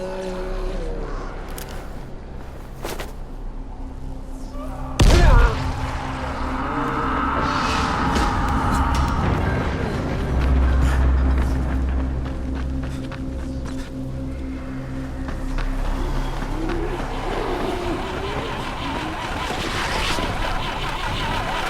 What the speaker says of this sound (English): the first thing I need you to do is stop cranking that engine